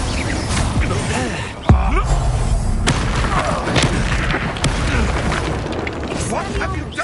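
A fiery spell blast erupts in a Hogwarts Legacy battle, one sharp booming burst followed by crackling debris and rumbling action sounds, with voices talking over the fight.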